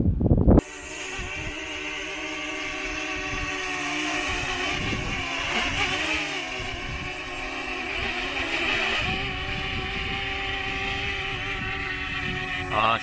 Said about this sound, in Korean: 아마 지금 바람이 너무 강하게 부니까 이 기체가 매빙 미니가 비행을 하기가 좀 버거운 것 같아요.